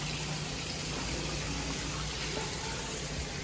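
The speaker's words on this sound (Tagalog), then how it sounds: "Waterfall pa." Water from an indoor garden waterfall feature flows in a steady, continuous rush, close and even throughout with no voices.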